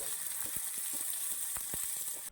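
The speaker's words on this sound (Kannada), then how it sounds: "ಈಗ ಒಂದು ಈರುಳ್ಳಿನ ಫುಲ್ ಸಣ್ಣದಾಗಿ ಹೆಚ್ಚಿದ್ದೀನಿ ಇವಾಗ ಅದನ್ನು ಹಾಕ್ಕೊಂಡು ಚೆನ್ನಾಗಿ ಫ್ರೈ ಮಾಡ್ಕೊಳ್ಳಿ" Finely chopped onion with green chillies sizzling in a hot pan, a steady bright hiss with a few soft stirring knocks, close and continuous with no voices.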